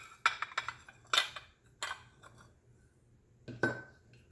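Small individual glass condiment dishes clink against each other as they are handled, with several sharp close taps in quick bursts and pauses in between.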